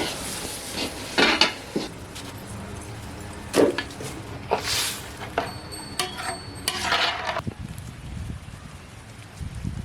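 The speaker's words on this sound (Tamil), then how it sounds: "கருவேப்பிலை இதெல்லாம் சேர்த்துக்கலாம் மசாலாலாம் சேர்த்து நல்லா எண்ணெயிலே வறுத்துக்கலாம்" Curry leaves and masala frying in oil in a pan in a village home kitchen, a sizzling hiss with bursts of crackle and clinking utensil stirring, close and fairly loud with no talk.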